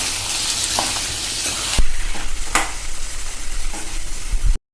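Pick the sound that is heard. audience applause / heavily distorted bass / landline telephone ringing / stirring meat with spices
stirring meat with spices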